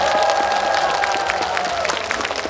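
An outdoor festival crowd applauds steadily, a dense wash of clapping heard from a distance with a faint tonal hum underneath.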